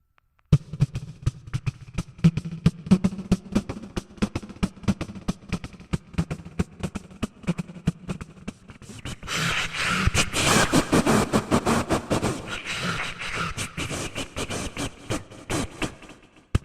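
A mimicry artist vocally imitates a train entering a tunnel: rhythmic clacking pulses first, then a louder, dense roaring rush as the train goes into the tunnel, performed alone without speech.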